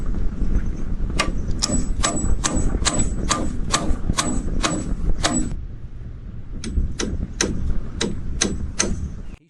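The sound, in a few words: hammering wooden pegs into a beam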